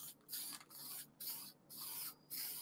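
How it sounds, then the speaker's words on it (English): Finish coat sprayed from a can onto a repaired guitar headstock: four short hissing bursts in a steady rhythm with brief pauses between, close and fairly loud, no talking. "Hold on, let me spray this."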